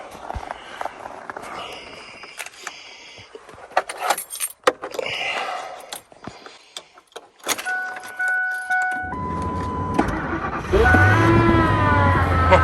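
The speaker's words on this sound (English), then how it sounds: "get this truck started. Take a minute to warm up." Pickup truck on a frigid morning, with keys jangling near the start before the engine turns over and settles into a steady, loud idle as it warms up; brief movement sounds come in between.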